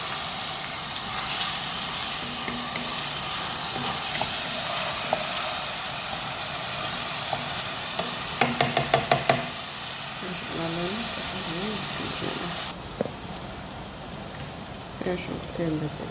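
Onion frying in hot oil in a pan, a steady, close sizzle and hiss that runs throughout, with a few brief clinks and stirring sounds, and a voice speaking over it.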